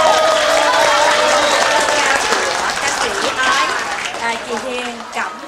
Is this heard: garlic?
no